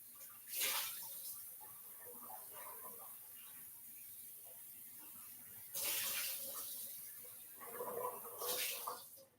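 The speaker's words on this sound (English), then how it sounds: "So we rinse it out with hot water" Hot water from a tap splashes and runs over a cast iron pan being rinsed in a sink, with louder gushing surges in between. The sound stays fairly quiet, close-miked and continuous.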